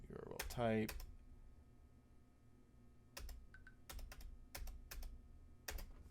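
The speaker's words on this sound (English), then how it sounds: "I keep pressing the damn print screen button too many damn times" Computer keyboard keys clicking close by in scattered bursts and single presses, with a brief voice near the start and quiet pauses between.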